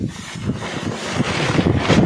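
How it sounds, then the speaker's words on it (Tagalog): Strong wind buffets loudly and continuously, with gusty surges and rough low rumbling noise, no voices. "malakas pa naman yung hangin"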